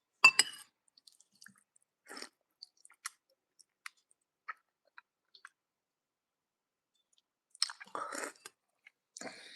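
A person chews food close to the microphone in quiet surroundings, making crunchy bursts and small wet clicks in irregular clusters with pauses between.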